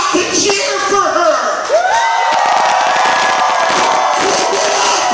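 A wrestling crowd cheers, screams and claps loudly and continuously for a bout between La Avispa and Ave Rex, with whoops rising and an announcer's voice over the noise.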